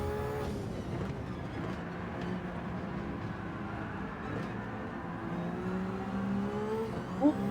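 A Bugatti engine in Gran Turismo 7 drones in a steady high-revving whine during a race, with gradual pitch shifts as it accelerates, loud and continuous, no clear talk.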